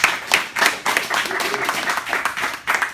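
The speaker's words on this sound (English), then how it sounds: "let's have a round of applause for our 3 Republican candidates." Scattered audience clapping for city council candidates at a Long Beach, NY event, uneven bursts of claps mixed with voices and room noise.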